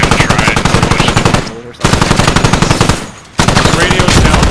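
Machine gun fire in a war video game aimed at a radio, loud close bursts of rapid shots in three long volleys separated by brief pauses.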